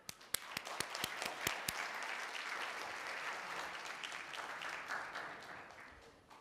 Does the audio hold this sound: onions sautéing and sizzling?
no